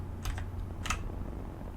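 Two short bursts of quick key taps on a computer keyboard's arrow keys, quiet and close, separated by a brief pause over a low steady hum.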